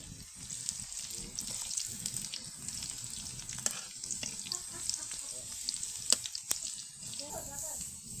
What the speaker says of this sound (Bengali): তেল দিয়ে এখন পেঁয়াজটাকে ভেজে নেওয়া হইতেছে।